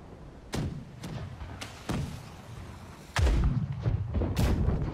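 Ship cannons firing in the BlackWake naval combat game, a series of sharp booming blasts at irregular intervals, several fairly close and loud with rumbling tails, one heavier burst near the end.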